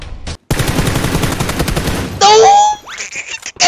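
Rapid automatic gunfire in a first-person shooter video game, a loud continuous burst of shots followed by a sharp metallic ring and short trailing sounds.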